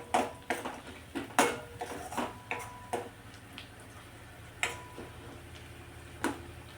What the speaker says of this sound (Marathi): आता हे अजून 1 मिनिटभर परतून घ्यायचं मिरच्या टाकल्याच्या नंतर.